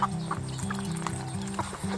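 Several one-month-old Betong chickens cluck close by in short, repeated bursts over a low background hum.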